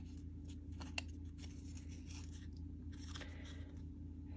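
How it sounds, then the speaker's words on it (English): Cardstock gets folded back and forth along a score line, making faint, sparse crinkles and crisp ticks over a quiet background hum. "So you're just folding back and forth."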